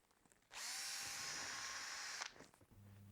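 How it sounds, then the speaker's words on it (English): A power drill bores back through a filled and sanded hole in a wooden board for a bookbinding jig, a single close, steady high whine lasting under two seconds before spinning down. "I can now re-drill this hole."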